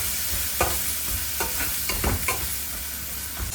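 Brinjal and powdered spices, garam masala and turmeric, fry in hot oil with a close, steady sizzle broken by several sharp stirring scrapes.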